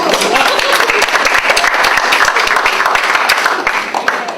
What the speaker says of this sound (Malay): tepuk tangan untuk fakulti ni